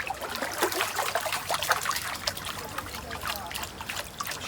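Water sloshes and trickles as a gold pan is swirled and rinsed at Thermal City Gold Mine, a close, continuous washing sound with small splashes.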